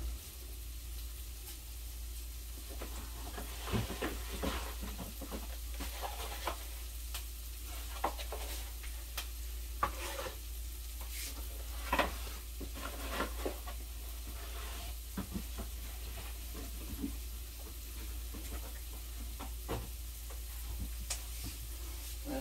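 Breakfast casserole ingredients sizzle steadily in a pan, a soft continuous frying hiss with scattered pops and crackles throughout.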